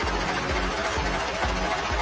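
A Mitsubishi Strada/Triton engine idles just after starting, a close, steady low rumble with a regular throbbing pulse and no talk over it.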